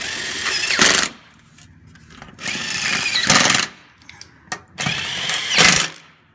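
A power tool drives bolts into an aluminum belly panel on a 2000–2006 first-generation Honda Insight, three loud close bursts of whirring and rattling with brief pauses between them.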